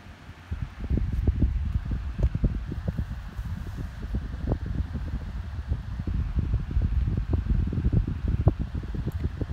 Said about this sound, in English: nine inch desk fans have musical motor startup sounds to them